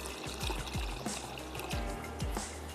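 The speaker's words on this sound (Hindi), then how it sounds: "थोड़ा सा और ऐड कर देते हैं पानी" Water is poured into a pot of boiling lentils, giving a run of gurgling, bubbling splashes that sit fairly close and clear, with no talking.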